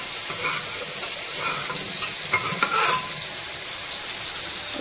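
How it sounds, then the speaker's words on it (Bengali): Dal and boiled potatoes frying in a pan, a steady soft sizzle with a few stirring scrapes and clinks, close and moderately quiet. "দেখ এবার ডালটা দিয়ে দেবো, আর এই যে দুটো আলু সেদ্ধ দিয়েছিলাম"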